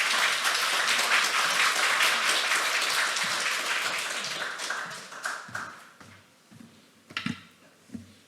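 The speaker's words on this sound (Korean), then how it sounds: "나오실 때 우리 박수로 환영할까요?" A church congregation applauds at a Sunday worship service as the pastor comes forward, dense sustained clapping from many hands that gradually thins and fades into a few scattered claps.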